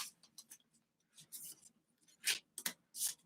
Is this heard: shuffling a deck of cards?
yes